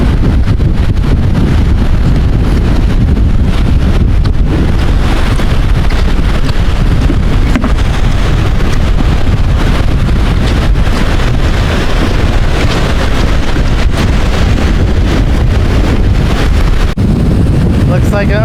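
Strong wind buffets the microphone at a Lake Michigan beach at Holland State Park, a loud continuous roar of low rumbling gusts throughout, with a voice faintly talking under it.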